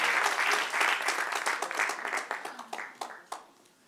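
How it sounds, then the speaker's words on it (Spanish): Applause from a church congregation during a sermon, many hands clapping in a full burst that thins into scattered, separate claps and fades out. "Dale un aplauso al que reina."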